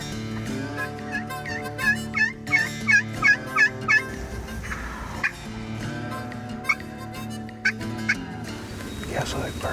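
A wild turkey gobbler on an opening-day Kentucky spring hunt sounds a run of repeated, throaty gobbling and clucking calls. The calls are close and fairly loud, with rustling and faint background noise between the bursts.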